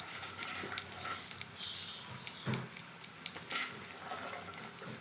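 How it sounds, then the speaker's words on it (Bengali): Dried red chillies fry in hot mustard oil in a kadai, a faint crackling sizzle with scattered pops and a few stirring clinks, close by and quiet, with no one speaking. "কড়াই তেল গরম হয়ে গেছে,"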